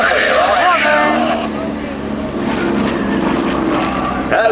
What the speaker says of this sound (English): it's a fully aerobatic aircraft that they do a beautiful formation hammerhead stall turn